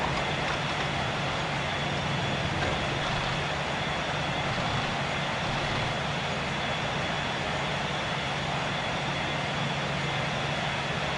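Airliner engines roaring at full takeoff power in a flight simulator on a midnight flight from Dallas–Fort Worth, a loud, steady, broadband jet rumble holding unchanged throughout with no talk.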